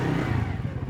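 A motorcycle squeezes through a very narrow lane in Chiniot, Pakistan, its engine a steady, close, mid-pitched drone that holds for a moment without a break.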